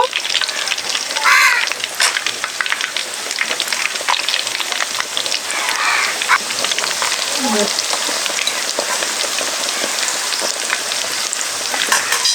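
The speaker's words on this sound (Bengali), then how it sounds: "তো বন্ধুরা এখন বাকি চিকেনগুলো ফ্রাই করে নিব" Pieces of KFC-style chicken deep-frying in hot oil, a steady dense sizzle and crackle continuing for the whole stretch, with faint bird calls in the background.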